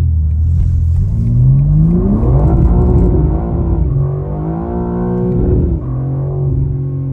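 A powerful car engine revs hard and climbs in pitch, then settles and surges again in a loud, continuous roar with no talking.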